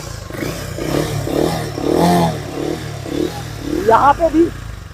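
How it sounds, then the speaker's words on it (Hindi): A Harley-Davidson X440 motorcycle stands parked while its engine revs in brief rising bursts near the end. Someone talks over a low idle rumble for most of the stretch. "अब कुछ लोग बोलेंगे भाई खड़ी बाइक पे रेव कर रहा है"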